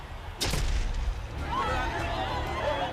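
A compressed-air cannon fires a bun with a single loud, sharp blast, followed by a rushing, rumbling tail and excited voices shouting nearby.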